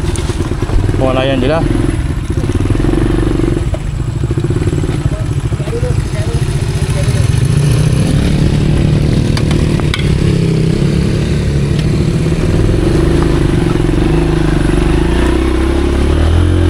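A motorcycle engine runs loud and close, a continuous low rumble with slight shifts in pitch, while someone talks over it.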